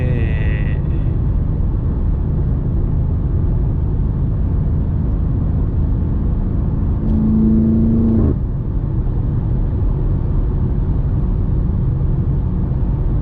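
BMW M5 Competition engine on back roads, a steady loud low-pitched drone with a brief rising rev near the middle before settling back to a constant road-going rumble.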